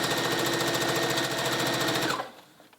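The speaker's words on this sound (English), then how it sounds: "Now when we get about an inch away, we turn that stitch down and go all the way out." Sewing machine stitching a waistcoat runs in a steady, rapid mechanical whirr for about two seconds, then stops abruptly, leaving near silence.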